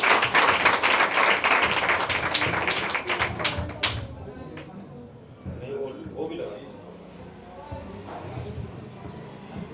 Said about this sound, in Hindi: खुदावंद यीशु मसीह के लिए जोरदार तालियां बजाएं